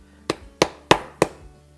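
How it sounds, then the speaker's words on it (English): A steak is pounded thin with a meat hammer: four sharp, evenly spaced thuds about a third of a second apart, close and fairly loud, with no talking. "you want to go ahead and hammer it down so that it's not quite as thick"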